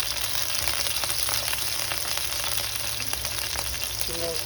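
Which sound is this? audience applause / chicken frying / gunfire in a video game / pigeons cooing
chicken frying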